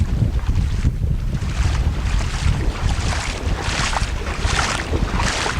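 Strong, gusting wind roars across the microphone during a boat ride through floodwaters, with low rumbling buffeting and periodic louder surges, steady and close throughout with no talking.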